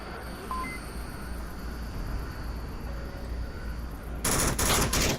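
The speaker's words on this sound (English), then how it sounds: "Nightmare blind firing down the back alley" Rapid bursts of gunfire in the VR shooter Onward during a back-alley fight, a steady rattle of automatic fire throughout that grows louder and denser near the end.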